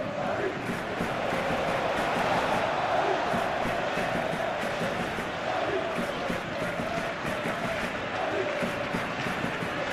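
Stadium crowd in a football simulation video game of a La Liga match between Real Madrid and Rayo Vallecano, a loud, steady roar that holds without a break from start to finish.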